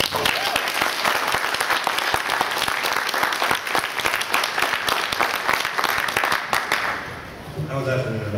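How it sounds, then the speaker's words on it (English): Audience applause for comics artist Howard Cruse as a Comic-Con special guest, a dense, steady roar of many hands clapping close and loud for about seven seconds before tapering off as a voice begins to speak. "please give a warm round of applause for Howard Cruse, everyone"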